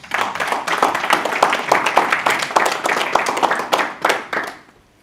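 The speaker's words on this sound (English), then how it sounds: "I think we should give them a round of applause." A breakfast roundtable audience claps for a musical group, steady crisp hand claps of moderate loudness for about four seconds before fading out.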